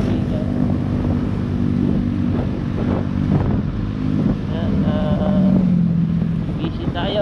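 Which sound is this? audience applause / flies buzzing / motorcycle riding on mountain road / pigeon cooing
motorcycle riding on mountain road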